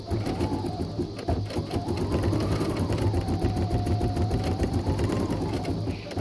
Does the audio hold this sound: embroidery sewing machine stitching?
yes